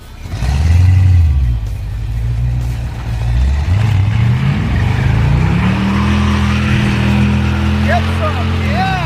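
A supercharged Jaguar-engined rat rod roars through a burnout in a parking lot. The engine revs loudly and climbs steadily in pitch before holding a sustained high drone, with voices faintly under the noise.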